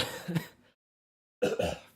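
Two bursts of throat clearing or coughing from someone who is sick, close and fairly quiet, separated by a short silence.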